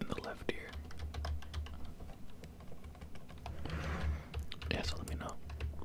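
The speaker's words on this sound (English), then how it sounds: "you should hear my keyboard over here in the left ear." A computer keyboard typing in the left ear during a Minecraft ASMR session: a soft, close, steady patter of key clicks under quiet whispering.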